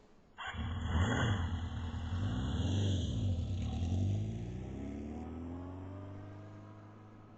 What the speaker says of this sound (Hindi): मैं बाइक चला रहा हूं।